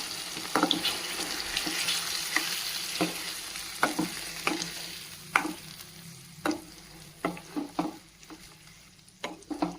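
Raw ground tomato paste for tomato chutney sizzles and bubbles in hot oil, with a steady frying hiss and repeated scraping clinks of a spoon stirring the pan.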